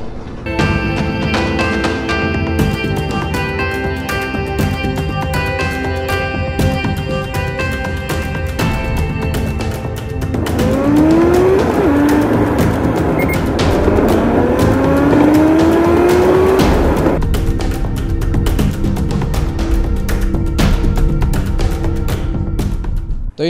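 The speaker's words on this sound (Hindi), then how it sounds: "बस कुछ गाड़ियाँ दिख रही हैं जो कि काफ़ी स्पीड में चल रही है" Vehicles speed past on a deserted Patna city road at 2 a.m. on a cold winter night, loud engine roar and tire whine swelling and sweeping by in a continuous nearby rush.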